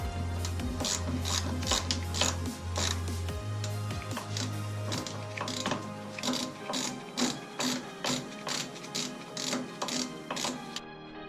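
Ratchet clicking steadily while loosening the brake booster mounting bolts on a 1981 Jeep CJ7, with a fast, even run of close, loud pawl ticks over a low mechanical hum that drops away partway through.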